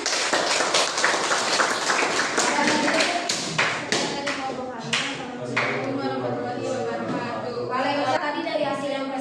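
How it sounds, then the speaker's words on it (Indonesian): A classroom of students claps for a small group after their presentation, a burst of quick, scattered hand claps that fades into overlapping voices and chatter. "silakan kembali untuk kelompok 2 kita kasih tepuk tangan"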